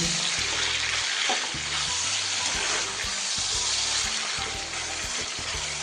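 Chicken tossed with salt and spices in a hot frying pan gives a steady loud sizzle, with scraping stir strokes throughout and no talking.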